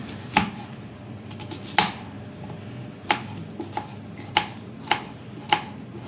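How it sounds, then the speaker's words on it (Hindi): Onion is chopped into small pieces with a knife on a board. About eight sharp, distinct thumps fall at irregular intervals over a quiet background. "प्याज को भी हमने छोटे छोटे टुकड़ों में काट लेना है।"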